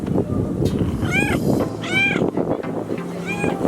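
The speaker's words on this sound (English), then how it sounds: "Oh my god, there's a little cat." A small cat meows several times outdoors in the desert, close and clear, the rising-falling cries spaced out against wind and low background noise.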